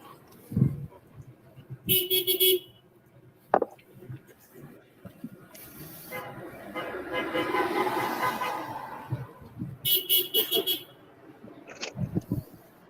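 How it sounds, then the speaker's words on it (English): A few car horns honk from passing traffic at a roadside rally in Ironton, Ohio, short toots at intervals, with a vehicle whooshing by and people talking in between. "Oh, you got a honk."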